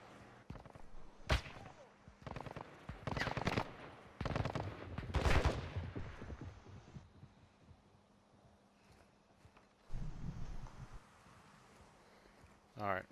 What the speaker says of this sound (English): I heard that shot.